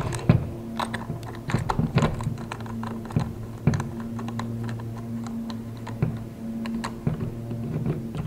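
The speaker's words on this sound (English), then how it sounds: "Comes with a little wrench to tighten this up." Small wrench tightening a part on an outdoor lawn toolbox, giving a scatter of light clicking and ticking sounds over a low steady hum, close by with no talk.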